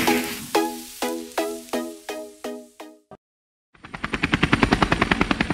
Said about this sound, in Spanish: el más completo y avanzado servicio de ambulancia aérea en helicóptero en nuestro país